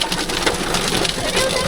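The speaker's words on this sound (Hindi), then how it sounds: "ओ भागो, बारिश आ गई।" Sudden heavy rain breaking out in a storm over a Himachal Pradesh village, a dense, loud hiss of drops striking surfaces, continuous and close.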